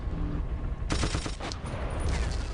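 A tank's mounted machine gun fires in Battlefield 1942 on Omaha beach, a sustained rapid burst of loud automatic shots beginning abruptly and continuing in dense, rattling bursts.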